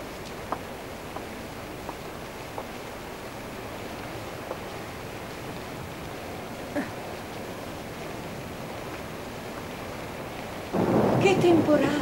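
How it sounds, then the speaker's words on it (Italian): A thunderstorm with steady rain hissing throughout, faint distant rumbles early on, and a louder burst of thunder or heavy downpour near the end; no one speaks. "Che temporale!"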